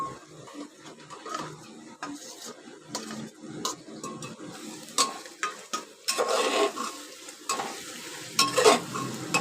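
Spices, salt, Kashmiri chilli powder, turmeric, coriander and cumin powder with ginger-garlic paste and a little tomato sauce sizzling in a pan while being stirred, steady frying hiss with bursts of scraping, close and moderately loud, no talk.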